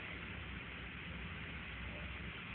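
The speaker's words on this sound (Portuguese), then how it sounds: "Tá chovendo no céu?" Rain falls outside as a faint, steady, even hiss with no breaks and no voices.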